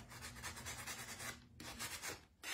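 Close, rhythmic rasping strokes of a sanding sponge over sealed Dollar Tree urn candle holders, back and forth in quick repeated passes with a brief pause near the end.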